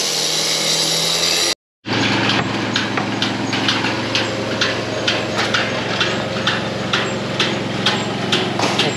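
Power tool cutting a groove along a brick line for folding 24-gauge galvalume roofing metal, a loud steady grinding whine after a brief silent gap, with repeated short bursts as it bites along the line.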